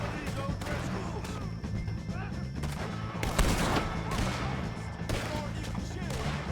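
Dense volley of rapid gunfire from a Red Dead Redemption 2 shootout against O'Driscoll gang members, with loud overlapping shots and crashes continuing throughout under game dialogue.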